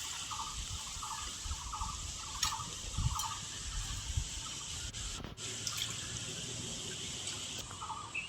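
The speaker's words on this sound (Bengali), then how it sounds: "ভালো করে আমি দুধটা দিয়ে দিচ্ছি।" Milk poured into a cooking pot for a Bengali potato-poppy-seed and milk shukto dish gives a steady liquid splash and trickle, running continuously at moderate level with a few brief clinks, and no talking.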